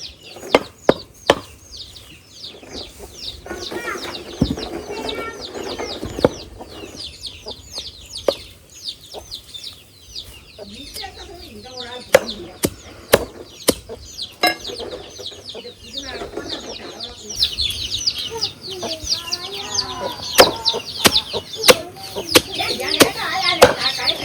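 Backyard chickens cluck and chatter while pecking at finely chopped vegetable scraps, with sharp pecking taps and occasional wing flaps close by, and soft background noise between the bursts.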